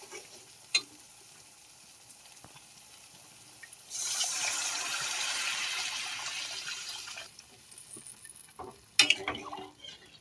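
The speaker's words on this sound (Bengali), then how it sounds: "এবার আমি জল দিয়ে দেবো।" Water poured into a pan of fried spice paste for fish curry, a steady hissing sizzle rising for about three seconds then fading, with a few faint clinks before and after.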